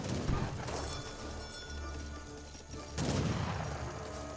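Watchtower gunfire in Age of Empires 3, a few quiet scattered shot bursts at the start and again near the end, heard faintly over a low game background.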